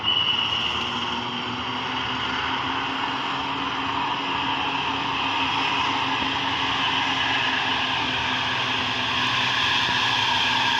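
A Jetbus 3 bus nicknamed Gimbal, from the Satria Timur fleet, strains up a steep, extreme uphill road. Its engine gives a steady, loud drone that holds without a break under a broad noise wash, and nobody speaks.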